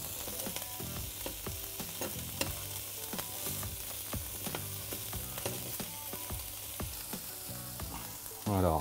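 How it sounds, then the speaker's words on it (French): Salmon cubes sizzle steadily in a hot pan, with a string of short scraping clicks as pieces are turned one by one, ending in a louder burst of frying near the close; no one speaks. "je vais pouvoir commencer à retourner mes cubes de saumon"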